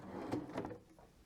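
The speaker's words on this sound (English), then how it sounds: "let's take a look in the drawers beside the bed." A bedside drawer in a Ritz-Carlton Toronto hotel room slides open with a short rumbling scrape and a couple of soft knocks, close and fairly quiet, with no talking.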